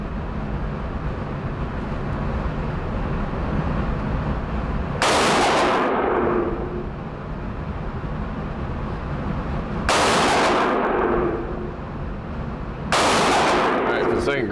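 Three loud single gunshots from a Tommy Built Tactical TG36K, an HK G36 clone rifle, fired at an outdoor range, spaced several seconds apart, each a sharp blast with a short decaying echo over steady background rumble.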